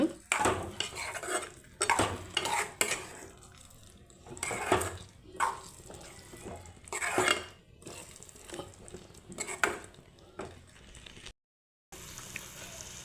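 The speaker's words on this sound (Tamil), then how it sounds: "இதை சேர்த்து மிக்ஸ் பண்ணி விட்டுக்கோங்க" Jackfruit seed gravy being stirred in a pan after ground coconut is added, with rhythmic close scraping and clinking of a spoon against the pan and a light sizzle underneath, without speech.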